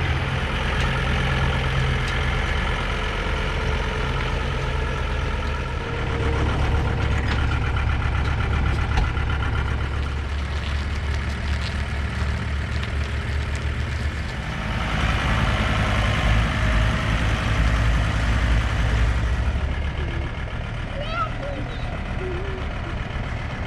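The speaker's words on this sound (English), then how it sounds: "Right there is the tractor they use to" A tractor used to move Airstream trailers idles at the Airstream factory, a steady low diesel rumble close by that holds throughout, with brief rises in engine noise and faint voices in the background.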